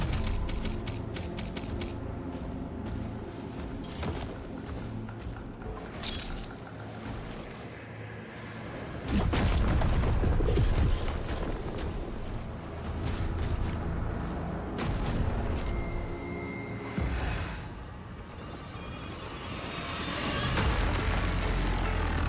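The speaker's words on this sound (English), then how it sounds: "So this was a rocket and a grenade launcher." Rocket and grenade launcher fire in Doom The Dark Ages, a dense barrage of heavy booming blasts and explosions over a constant din of game music and effects, loudest around the middle stretch.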